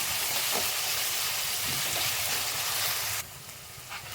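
Chopped onions fry in hot oil for a restaurant-style paneer tikka masala, giving a steady loud sizzling hiss that drops sharply near the end, with no talking.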